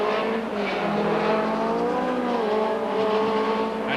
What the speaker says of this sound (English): He blasts out of the pit lane, leaving Dave Brodie there